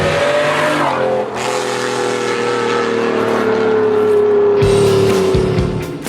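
A Pagani Zonda supercar drives hard, its engine note loud and close, holding a steady high tone that drifts slowly downward, then gives way to a brief burst of harsher revving near the end.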